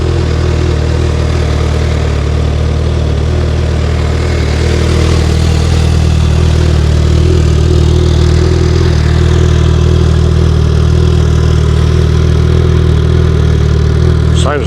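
A Suzuki Hayabusa GSX1300R 25th Anniversary motorcycle idles steadily and close, a low, even engine rumble with a raspy exhaust edge running throughout, with no talking over it.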